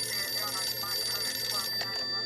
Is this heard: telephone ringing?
yes